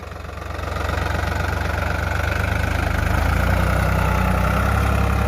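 A New Holland 3600-2 tractor pulling a cultivator, with a loud, steady diesel engine drone and a fast, even knocking pulse that holds throughout, close by and with no talk.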